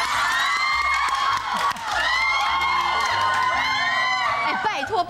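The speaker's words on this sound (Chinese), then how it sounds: "H A P P Y 就可以这么多掌声了，开什么玩笑？" A Taiwanese talk-show studio audience claps, cheers and whoops loudly in several swelling bursts, with shrill young-sounding shouts rising above the applause.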